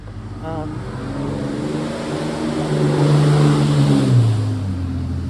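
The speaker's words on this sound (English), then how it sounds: "In the background you can see a traffic jam behind me." Idling and creeping cars in a traffic jam along a road through Tillamook State Forest make a steady engine drone, with a humming vehicle tone that swells and then slides lower near the end, as if one car pulls past.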